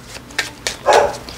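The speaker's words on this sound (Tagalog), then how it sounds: "Pakaingay naman ng aso, no?" A dog barks a few times in quick succession somewhere nearby, short sharp yaps of moderate loudness over a quiet indoor background.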